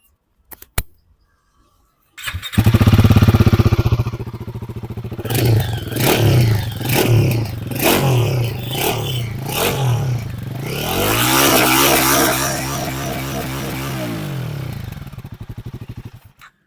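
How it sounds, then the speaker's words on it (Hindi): Royal Enfield Guerrilla 450 motorcycle starting up loud and close, then throttle blips rising and falling in a run of quick revs before settling into a steady, fuller exhaust drone. "हम आपके सुना देते हैं फटाक से इसका जो एग्जॉस्ट नोट है"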